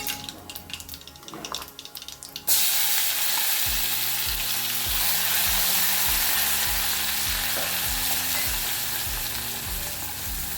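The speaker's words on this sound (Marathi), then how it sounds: "हे वाटण छान लालसर होईपर्यंत आपल्याला परतवून घ्यायचं आहे" Spice paste frying in hot oil with bloomed cumin for a Makar Sankranti meal, starting after a few seconds of quieter stirring, then a loud, steady sizzle up close with dull rhythmic thumps of stirring underneath and no talking.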